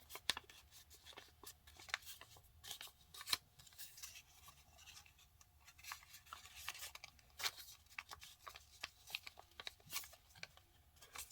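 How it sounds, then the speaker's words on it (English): A sheet of paper is folded in half to make a paper airplane, heard as a steady run of faint crinkles, rubs and sharp creasing swipes close at hand. "Now let's fold the paper in half."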